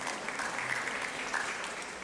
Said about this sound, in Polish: Poproszę o brawa.